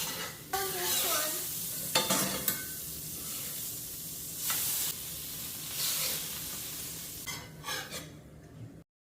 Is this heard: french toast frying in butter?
yes